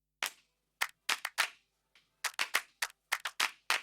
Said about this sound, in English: the last one is the offbeat clap